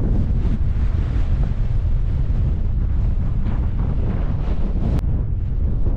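Wind blowing hard across open Dartmoor moorland, a loud continuous buffeting roar on the microphone that fills the entire stretch with no break.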